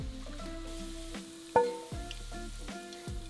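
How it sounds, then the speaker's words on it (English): Pancetta frying in a pan, close-up sizzle with crackling pops and a few stirring clatters of a utensil over steady hissing, no talk. "add the pancetta to the pan and fry, stirring a few times until it's nice and crisp"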